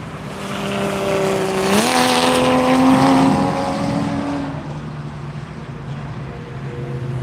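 Race car passing on the VIR track during a morning session, a loud engine roar with rising then falling tones as it sweeps by nearby, fading into a steady background rumble.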